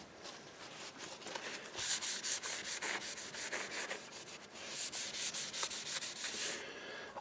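Wood treatment rubbed by hand onto the wooden cabinet of a Realistic STA-2250 receiver, a close, steady rhythmic swishing with repeated back-and-forth strokes, no talking.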